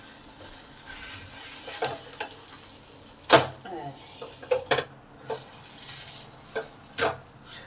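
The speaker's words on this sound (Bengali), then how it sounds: "এবার পনিরটাকে আলতো করতে দিয়ে দিই এপিট ওপিট করে একটু ভেজে নেবো" Paneer frying in a pan as it is turned from side to side, with scattered close scrapes, taps and clinks of a spatula over a soft sizzle, one louder knock midway.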